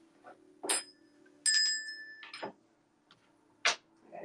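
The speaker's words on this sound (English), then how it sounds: "Another bell." A single bell rings clearly with a short sustained tone, set among a few sharp knocks and clatters in a quiet room.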